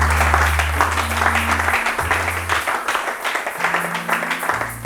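A church congregation applauds in a sustained, dense wash of clapping that runs throughout, with low, steady organ-like tones humming beneath it.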